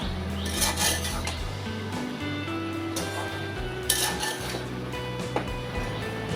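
Prawn and pumpkin stem curry is stirred and scraped in a pan, with steady metal clinks and clatter of a spoon against the cookware and a couple of sharper knocks, over a constant low background hum and no talking.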